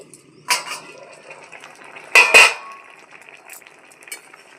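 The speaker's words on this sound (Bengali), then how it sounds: "একটু নেড়ে দেবো" A spoon stirs homemade tomato sauce in a pan with a lid: a few distinct metallic clinks and scrapes stand out, the loudest pair near the middle, over a quiet background with no talking.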